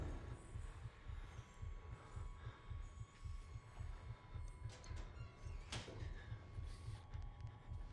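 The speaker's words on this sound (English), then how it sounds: "I can hear my heartbeat as well." A steady, muffled heartbeat throbs in the horror game Outlast, low double thumps repeating at an even pace under a faint hum, with a brief clatter near the end and no talking.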